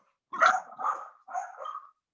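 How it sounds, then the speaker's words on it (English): Dogs in a house bark excitedly, three close, loud bursts in quick succession with no talking over them. "Apparently somebody's breaking into my house and my dogs are going crazy."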